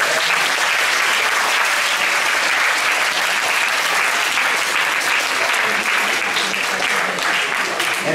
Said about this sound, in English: May I ask for everyone to please give yourself a round of applause.